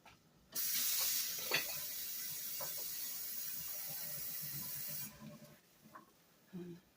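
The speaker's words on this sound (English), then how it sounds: "Let me add a little bit of more water." Water pours into a pot of stuffed shells on a home stove, a steady rushing splash of about four and a half seconds, followed by faint kitchen clatter.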